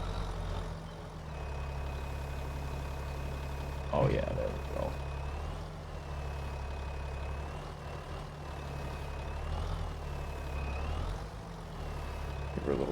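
A heavy truck in Farming Simulator 25 idles and rumbles steadily while repositioning a trailer, with a low engine drone, a rising whine and brief clanks or hisses from the hitch and brakes.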